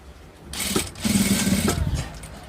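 A sewing machine runs a top stitch along a fabric placket, its motor whirring up briefly, then holding a steady humming chatter for under a second before winding down, close and moderately quiet.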